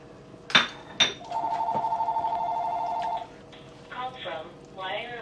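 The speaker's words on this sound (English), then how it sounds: "Let's answer the phone." A home phone rings in a kitchen during cooking, a steady electronic trill lasting about two seconds after a couple of sharp clinks, followed by voices talking nearby.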